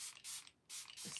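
Revolution makeup setting spray hisses in two loud bursts of mist with a brief gap between them, close and alone.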